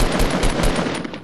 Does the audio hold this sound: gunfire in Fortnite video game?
yes